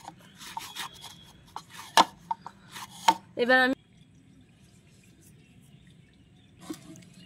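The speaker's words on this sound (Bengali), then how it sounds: "এবার আমি লেচি কেটে নিব।" Dough for coconut roll pitha is cut into portions with light knife taps and scraping on a board, sparse and close, with a brief louder rasp in the middle and then mostly quiet.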